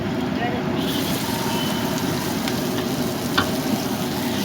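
Cabbage, onion and sliced capsicum with schezwan chutney tossed on high flame for a quick Chinese-style street food dish, a loud continuous roaring sizzle with a few metallic clanks of the wok close by.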